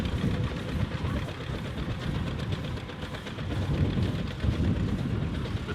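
A steam engine runs at an agricultural field day, giving a steady, continuous low rumble with a rough churning texture. It holds at an even loudness throughout.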